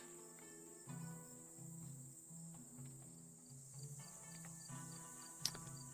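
Crickets chirp in a game scene from Lost Horizon 2, a high, steady insect trill running the whole time under a low, soft tonal music bed, with one brief sharp click near the end.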